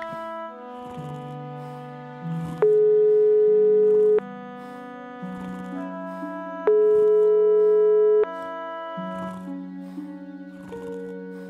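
In a video game, a ringback tone sounds for an unanswered phone call, repeating in long steady beeps spaced evenly apart over soft electronic background music.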